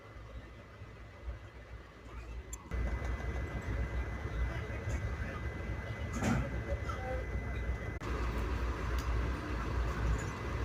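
Interior of a moving train on the Bangalore to Mysore route, a low continuous rumble of wheels and carriage that grows louder after a few seconds, with faint clatter and no talk.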